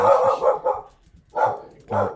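A dog barks in bursts, three quick loud barks followed by a pause and then two more, close to the microphone.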